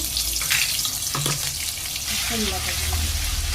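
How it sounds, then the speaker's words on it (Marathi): Cumin seeds and ginger-garlic paste hit hot oil for bottle gourd kofta gravy, giving a steady close sizzle and frying hiss throughout, with a few brief clinks and stirring scrapes. "तेल गरम झालेलं आहे आता आपण जिरं टाकून घेऊया आणि अद्रक लसूणची पेस्ट टाकून घ्यायची"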